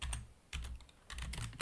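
Quick typing on a computer keyboard while building a slide, bursts of soft clicks and taps at a quiet level with brief pauses and no speech.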